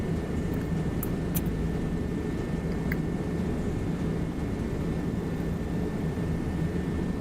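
A Bo 105 aerobatic helicopter in a flight simulator game gives a steady, unbroken engine and rotor drone that holds at an even level throughout, with no voices.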